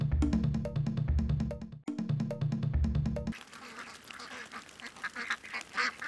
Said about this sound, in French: c'est une véritable armée de plus d'1 millier de canards qui envahissent le vignoble